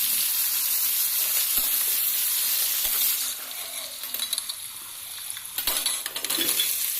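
Onions are dropped into a hot pan for an egg curry, where a bright steady sizzle gives way to bursts of crackling and light clattering of utensils against the pan.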